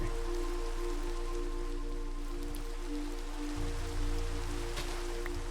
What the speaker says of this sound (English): It is raining, but that's okay